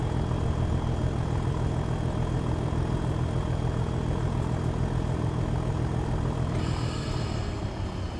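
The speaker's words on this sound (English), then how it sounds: "It's a fairly loud locomotive" A loud locomotive engine in the Train Sim World 2 game, running on a West Cornwall local service. It makes a constant, heavy drone with little change, like a plane, and a faint higher tone joins near the end.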